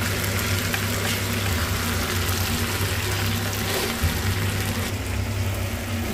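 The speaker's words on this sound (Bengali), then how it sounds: "এবার একটু হালকা 1 কাপ মতো জল দিয়ে দিচ্ছি, সেদ্ধ করবো।" About a cup of water pours into a pan of ghee-fried tomato for a Bengali lau ghonto with katla fish head, a steady close gushing wash lasting throughout with no pauses.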